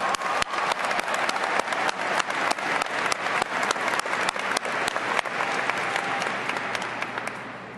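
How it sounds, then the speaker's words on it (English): Big, dense applause from a crowd at an outdoor high school commencement, steady and loud for several seconds before slowly fading toward the end. "Give yourself a big round of applause."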